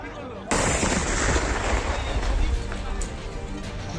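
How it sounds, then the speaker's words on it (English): A sudden loud blast opens a dense, roaring burst of crude bomb explosions and gunfire during election violence in Cooch Behar, Bengal, sustained and chaotic with sharper cracks mixed in. "Caught on camera with chilling sound of crude bombs and firing."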